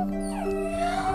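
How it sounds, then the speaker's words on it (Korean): An injured toy-play puppy with a badly hurt leg after a motorcycle accident whimpers in a short, continuous, tonal whine that wavers slightly in pitch, fairly loud and close with no talking. "우리 강아지 태피 먼저 봐주세요."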